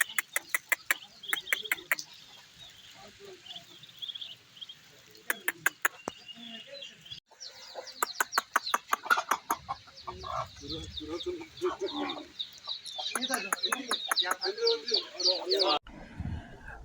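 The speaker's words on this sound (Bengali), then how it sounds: "হাঁসগুলা দেখেন আমি ডাকছি আর কি সুন্দরভাবে চলে আসছে।" Ducks approaching a person calling them in a muddy village area, with bursts of rapid, close quacking and clucking that come and go, mixed with the caller's voice.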